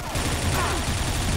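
A short burst of rapid gunfire from a shop gun in the shooter game XShot, loud and close, with game-like effects.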